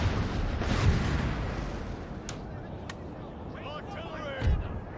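Artillery fires in the Napoleon: Total War video game, with two deep booming blasts about four seconds apart and scattered sharper reports between them over a rumbling battlefield din.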